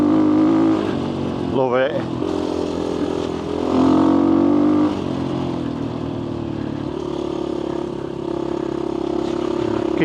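A motorcycle engine revs and roars steadily while being ridden on a rough road, loud and close, with a sharp throttle blip near the start. A voice speaks briefly over it.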